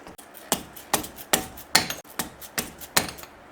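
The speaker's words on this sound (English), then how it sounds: "Patience and a 3-pound dead blow hammer go a long way." A 3-pound dead blow hammer strikes a front wheel bearing part on an R172 SLK350, landing about eight sharp, close blows at a steady rhythm, roughly two per second. No one speaks.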